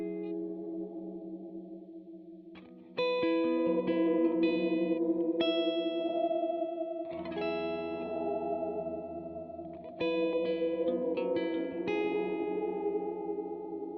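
An electric guitar plays chords and melodic notes through the vibrato effect of a Matthews Technician delay/reverb/looper pedal, with a steady pitch wobble and a wet, chorus-like shimmer throughout.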